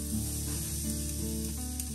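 Safflower oil sizzles on a hot electric griddle, a steady bright crackle and hiss running close and loud throughout, with no voices.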